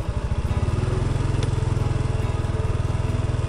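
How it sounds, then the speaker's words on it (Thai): A farm tractor engine chugs close by on a rural road in Laos, a loud, fast, evenly pulsing putter that runs steadily without a break and has no talk over it. "รถไถกำลังไปขนข้าวพี่น้องเลย"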